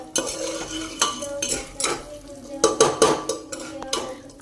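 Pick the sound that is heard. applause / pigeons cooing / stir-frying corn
stir-frying corn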